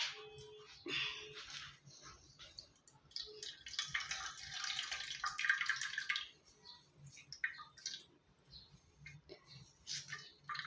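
Fennel water is strained through chiffon cloth, giving a soft, steady trickle and drip of liquid with faint wet squishing as the cloth is handled.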